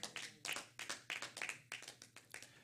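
A church congregation claps and applauds in a quick, uneven burst of hand claps lasting a couple of seconds, fairly close, with no talking over it.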